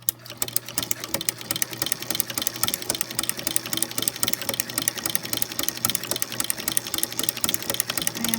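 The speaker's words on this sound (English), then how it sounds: "I'm going to go ahead and lightly press on the foot control so that that can get sewing." A sewing machine fitted with a ruffler foot runs steadily, stitching fabric with a fast, even mechanical chatter and regular clicking throughout, close and fairly loud with no talking.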